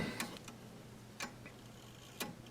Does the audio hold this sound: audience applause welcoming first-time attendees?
no